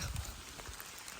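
Soaking rain falls steadily and faintly during a hike. It makes a dense, even patter with no break and no voices.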